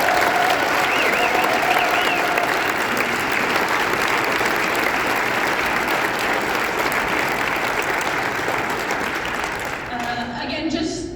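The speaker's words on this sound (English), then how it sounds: "one more round of applause for this team" Sustained, dense applause from a volleyball audience fills the space at steady loudness, easing slightly at the very end.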